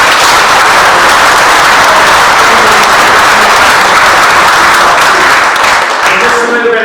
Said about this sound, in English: please continue applause for all three speakers because they're actually members of the community